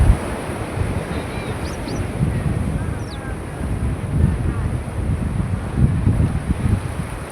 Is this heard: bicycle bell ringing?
no